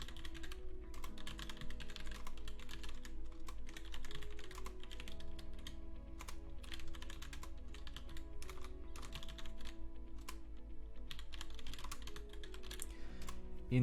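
Steady rapid typing on a computer keyboard as a product listing is written, close dense clicks in uneven bursts over a low hum, with no talking.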